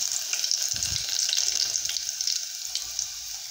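Garlic sizzles in hot oil in a pan: a soft, steady bright crackle and hiss, close, with a brief low thump near the start and no talking.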